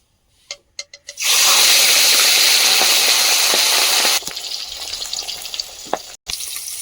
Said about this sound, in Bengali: তো এবার তেল গরম হয়ে গেছে কড়াইতে। এবার কিন্তু মাছের মাথাটা ভেজে নেব।